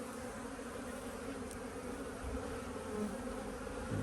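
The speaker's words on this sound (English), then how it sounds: "the bees are bringing in plenty of pollen and nectar." Honeybees at a hive in cool weather below 10 degrees centigrade, returning with pollen and nectar: a continuous soft buzzing drone, faint and even, with no voices.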